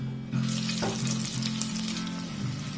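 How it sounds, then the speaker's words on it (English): Whole garam masala spices and onions frying in hot oil, a loud, close, continuous sizzle with a sudden hiss as more goes into the pan, crackling steadily to the end with no talking. "Now that the garam masalas have nicely fried in the oil, we're going to use the onions."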